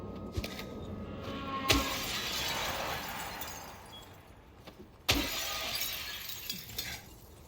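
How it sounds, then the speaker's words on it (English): Car windows shattering in Silent Hill 2, two sharp glass-breaking crashes a few seconds apart, each followed by tinkling shards over a steady ambient game background. "we just smashed both windows"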